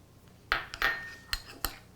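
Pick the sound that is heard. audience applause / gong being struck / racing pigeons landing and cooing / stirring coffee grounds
stirring coffee grounds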